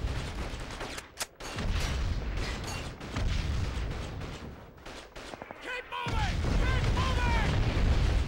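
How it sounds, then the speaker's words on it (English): Mortar rounds exploding amid gunfire in the Call of Duty 2 video game, scattered booms and bursts of shots at fairly low level, with voices shouting toward the end. "Now I'm getting hurt by random mortar fire"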